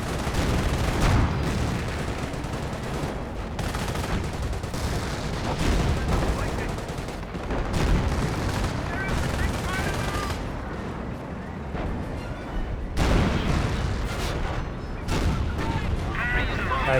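Sector artillery strikes pound the battlefield in Company of Heroes, dense repeated booming blasts and gunfire rolling across the whole stretch, loud and continuous, with a commentator's voice running beneath.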